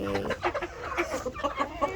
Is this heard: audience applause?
no